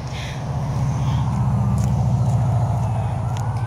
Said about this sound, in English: I'm right next to a little highway.